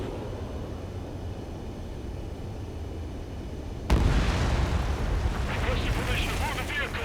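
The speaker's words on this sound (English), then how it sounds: "Bombs away." Bombs explode in the air-combat game Ace Combat 7: Skies Unknown. A sudden loud blast cuts through a steady roar, followed by a sustained rumbling, crackling aftermath.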